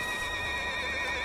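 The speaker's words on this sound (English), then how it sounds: "That sounds like horses." Horses whinny repeatedly in Red Dead Redemption 2, high shrill neighs over a steady synthetic background, close and fairly loud with no talking.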